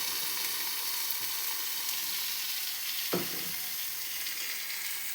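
Soybean masala frying and roasting in oil, giving a steady, dense sizzle throughout with a single brief clink of a utensil partway through and no talking.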